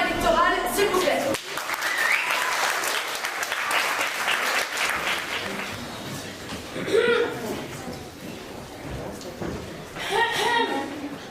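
A crowd breaks into loud applause that swells and then tapers, with people talking and a few laughs cutting in before and after the clapping.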